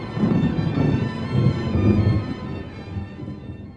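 A thunderstorm with low, rolling thunder that swells and fades over a few seconds, heard at a moderate distance with faint rain in the background and no voices.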